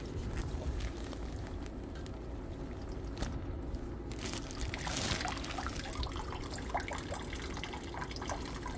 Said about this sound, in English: I'm gonna come back whenever the water is completely drained.